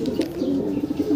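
Racing pigeons coo steadily after coming home from a 103 km race, a soft, low rhythmic cooing from several birds close by, with a few faint chirps over it.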